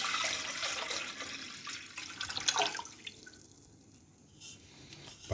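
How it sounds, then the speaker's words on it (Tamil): Water poured into a copper vessel for cleaning, a close, continuous splashing trickle that eases off and then leaves a few faint drips. "பாத்திரத்தில் இந்த தண்ணியை ஊற்றி வச்சுக்கிடுவோம்."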